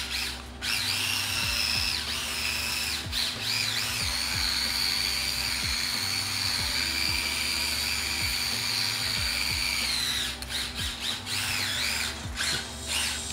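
An LDRC 1803 NSX RC car's electric motor driven at high throttle, a loud sustained high-pitched whine that rises and falls in pitch as it accelerates and spins, with brief dips, close and without talking.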